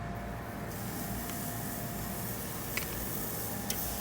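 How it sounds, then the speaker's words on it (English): Cooking spray hissing from an aerosol can onto country-style pork ribs before direct grilling over lump charcoal, a steady close, continuous spray with a couple of faint clicks near the end. "Spray it with a little cooking spray."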